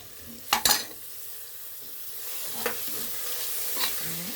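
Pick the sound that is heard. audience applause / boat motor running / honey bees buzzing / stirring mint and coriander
stirring mint and coriander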